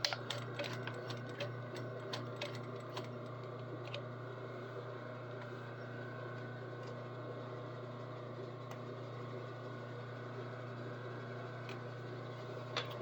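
A sewing machine backstitching a garment seam, a steady close mechanical hum with a faint repeated ticking and clatter running the whole time, the thread nearly breaking.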